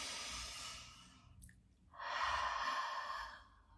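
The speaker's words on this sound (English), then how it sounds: "Breathe deeper." Two slow, deep breaths close to the ear, a long airy exhale, a short pause, then a fuller, louder breath, with no speech.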